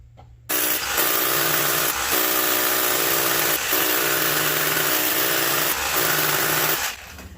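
A power drill bores holes for a crawl space entry door, a loud continuous whine and grind running for about six seconds with brief dips, starting abruptly and cutting off near the end.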